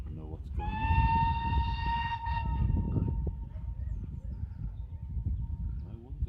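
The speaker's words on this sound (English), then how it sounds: "my dad's all surprised why the train's coming backwards" A train reversing into Dunster station rumbles along the track with a sustained tonal whistle early on, while people talk nearby over the low mechanical noise.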